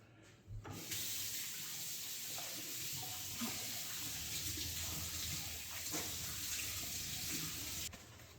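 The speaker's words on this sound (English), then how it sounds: "And then I gotta wash my hands again." Hands being washed under a running kitchen tap after handling garlic while preparing homemade gyros: a steady, soft rush of water hissing continuously for several seconds with no talk.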